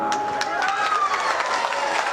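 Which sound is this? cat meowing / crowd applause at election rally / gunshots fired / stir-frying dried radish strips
crowd applause at election rally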